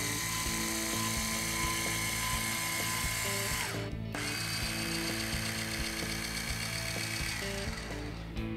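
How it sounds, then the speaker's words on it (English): Black Boar motorized implement lift running up and down, a steady loud electric motor whine that holds throughout, with a brief break in the middle and a change in pitch as it switches direction. "your control grip powers your lift up and down"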